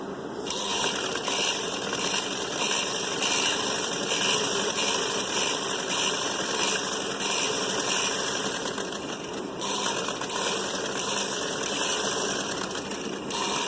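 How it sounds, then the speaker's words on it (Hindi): A sewing machine stitches fabric for a suit sleeve with a close, continuous, even whirr and rapid needle rattle, steady with no talking. "ये मैंने इस पे इस तरीके से सिलाई लगा दी है"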